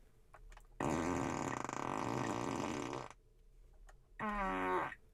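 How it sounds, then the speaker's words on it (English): A Tesla's novelty fart sound effect tied to the turn signal plays twice, a long loud blast of about two seconds followed by a shorter squeaky one, close and clear with no talking. "And then we have fart on turn signal."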